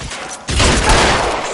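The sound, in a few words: gunshots in the video game L.A. Noire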